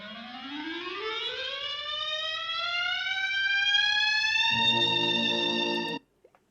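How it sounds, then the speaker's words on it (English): A recorded clarinet excerpt holds a single bright, reedy note that slides smoothly upward and then sustains, with lower accompanying tones joining near the end before everything cuts off abruptly into silence. "That sounds like clarinet."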